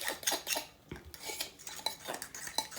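A whisk beats Thai-style peanut sauce in a bowl, producing quick, uneven metallic clinks and scrapes against the sides, close and fairly quiet, with no talking.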